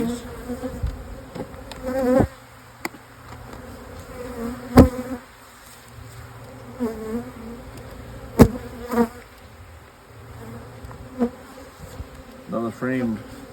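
Honeybees drone and buzz around an open hive during a colony split, a steady swarm hum close by with individual bees zipping past the listener, punctuated by a few sharp knocks of hive equipment.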